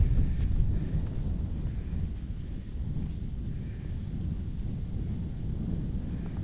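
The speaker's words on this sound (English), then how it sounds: "So the wind's starting" Gusty wind buffets a microphone outdoors at a rural property, a steady low rumble that swells and eases without a break. No one speaks.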